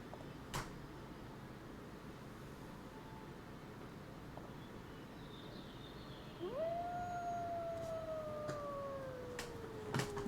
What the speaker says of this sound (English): Listening to the wolves howl